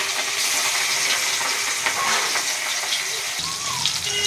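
Shimul fish slid gradually into hot oil for a spicy fish curry, a steady broadband sizzle and crackle holding at close range with a brief tonal squeak near the end.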